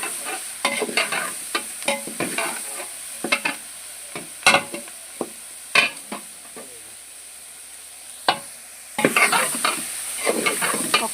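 Green chili paste frying in a pan for Telangana-style sambar, heard as a steady sizzle under repeated scraping stirs of a spoon against the pan, with the sizzle growing louder near the end.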